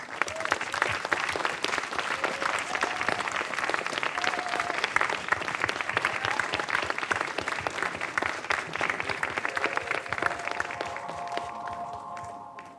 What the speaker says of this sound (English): please, a big round of applause for all the winners of tonight